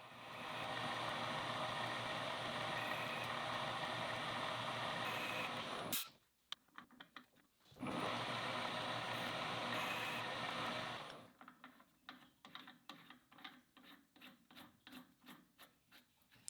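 A metal lathe cuts a thread with a threading bar, feeding out of the part in reverse. A steady, loud machining drone stops abruptly, returns for a few seconds, then gives way to scattered light clicks and taps.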